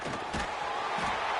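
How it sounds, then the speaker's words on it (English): A football stadium crowd roars in a dense, steady wash of cheering and shouting that fills the whole stretch, loud and continuous with slight swells. "Listen to this crowd."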